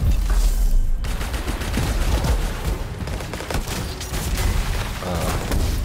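Dense bursts of rapid gunfire and explosive booms in the Anthem video game, loud and sustained for several seconds, with overlapping shots and blasts and no talk.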